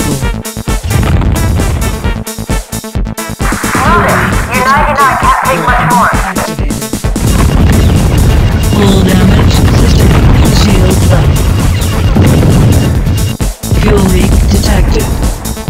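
Explosions from the 1996 PC combat game Fire Fight boom heavily amid dense, continuous game sound effects, with a synthetic voice announcing warnings over the din.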